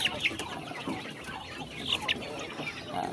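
Rhode Island Red chickens clucking on a farm at Bulado Port, Guihulngan, a few soft nearby clucks and short calls over outdoor background noise.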